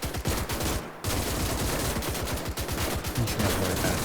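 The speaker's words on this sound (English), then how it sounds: "We'll start shooting at him now." Rapid gunfire in Gates of Hell as troops shoot at a machine gun nest in a bunker, dense overlapping bursts and cracks with a brief gap near the start, loud and sustained.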